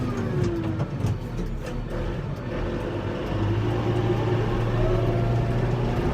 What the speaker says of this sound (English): I'm driving down the road in the tractor.